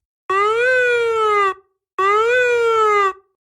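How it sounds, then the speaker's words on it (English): Two long, steady siren wails sweep through a camp, each lasting over a second and separated by a short gap, loud and alone in a Star Wars audiobook sound effect. "Sirens began ululating through the camp."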